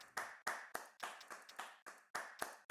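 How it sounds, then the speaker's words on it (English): A single person claps about ten times in an uneven rhythm at a livestream artist interview, each clap sharp and close with a short decay, with no other sound between the claps. "let's give you another round of applause"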